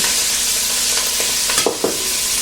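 Steady sizzling from a hot pressure cooker pot, with a few quick clattering bursts as roughly chopped herbs and peppers drop in and shift around.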